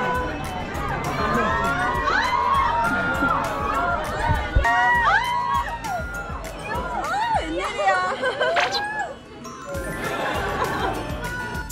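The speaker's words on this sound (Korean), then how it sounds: "체리가 인사하는 모습에 다들 환호 소리로 맞이해 주시는데요" Crowd of children and adults cheering and shouting at a book signing with the character Cherry, excited high-pitched squeals and chatter rising and falling over a busy, noisy room, with a faint tinkling in places.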